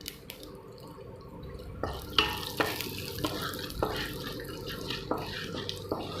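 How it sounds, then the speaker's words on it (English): Mustard seeds with chana dal and urad dal fry in hot oil in a pan, giving a steady sizzle broken by sharp pops and crackles that come every second or so. "add in the mustard seeds and both the dals, chana dal and urad dal. Fry till the dal is nice and gold."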